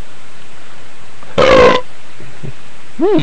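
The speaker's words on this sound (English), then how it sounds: "Beer burp." A single loud beer burp, about half a second long, stands out clearly against a quiet background, followed a moment later by a faint short vocal sound.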